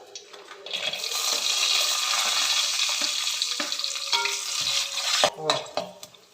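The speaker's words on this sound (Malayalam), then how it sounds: "രണ്ട് ടേബിൾ സ്പൂൺ നെയ്യ് ഇട്ട് അതിലേക്ക് നമുക്ക് കശുവണ്ടി ഇട്ട് കൊടുക്കാം" Steady, close sizzling of cashews frying in ghee, a bright hiss that holds throughout, with a few stirring clinks toward the end.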